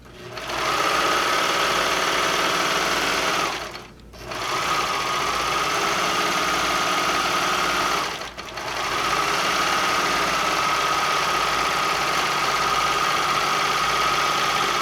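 A serger runs a steady, continuous mechanical whir while finishing the raw edges of a fabric dog bandana, with two brief pauses where it stops and restarts; it is loud and close, with no talking.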